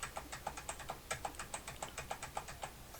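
Keyboard shortcut keystrokes for Ctrl+Z in Illustrator tap out in a quick, steady run of light clicks, close and fairly faint, with no voices.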